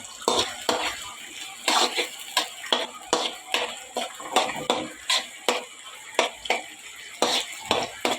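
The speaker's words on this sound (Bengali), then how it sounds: "এখন সুন্দর সুন্দর করে এগুলো ভাজা ভাজা করব।" Steady frying sizzle of ginger and spices in a pan for egg khichuri, with regular scraping strokes of a spatula stirring, close and fairly loud, no talking.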